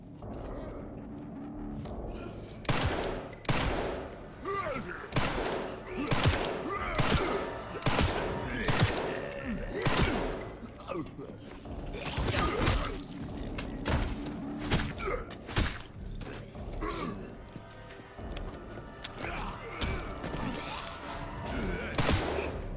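Rapid gunfire at enemies in Resident Evil Requiem, with repeated sharp shots and bursts in irregular clusters, loud and close, mixed with thuds and impacts over a continuous game backdrop.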